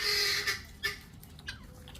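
Chickens cluck on a farm where pigs are also kept, with a few short, fairly close clucks and squawks over a steady rustling background.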